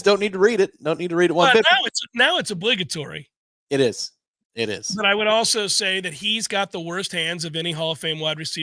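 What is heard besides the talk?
No everyday noise stands out behind the speech.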